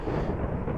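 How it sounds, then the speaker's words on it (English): Explosion spell going off in the Naruto ShinobiCraft Minecraft mod, a brief, heavy, low-pitched rumble lasting under a second, with no talking. "Explosion!"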